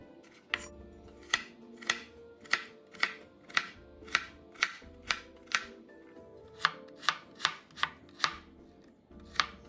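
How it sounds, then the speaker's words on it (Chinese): A knife dices a peeled potato into cubes on a cutting board, about eighteen crisp chops landing in a steady, fairly quick rhythm, close and clear, with no voices. "再切成丁块状。"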